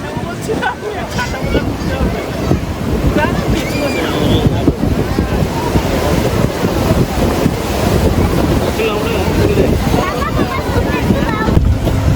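Sea waves rolling onto the beach at Digha in wind and light drizzle: a loud, steady roar of surf with wind buffeting the microphone throughout.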